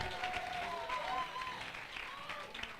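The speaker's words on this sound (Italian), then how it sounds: "un applauso per Galin." An audience at a poetry slam championship in Rome applauds with a steady wash of clapping while a voice carries on over it, then a louder burst comes at the very end.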